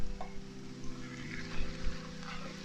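Minced meat fries in a pan with carrot and onion for stuffed eggplant, giving a soft, steady sizzle under a low hum, with a few scraping stirs of a spoon against the pan.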